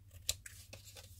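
Scissors snipping through a paper decoration, a few quiet, crisp cuts and rustles spaced irregularly against a soft low hum, close and faint.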